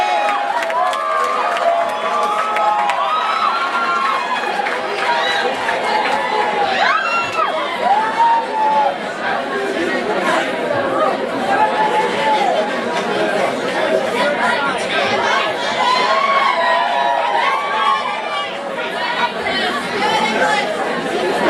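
A large audience at a senior trip skit night fills the room with dense, continuous chatter and scattered cheers and shouts, loud and close throughout.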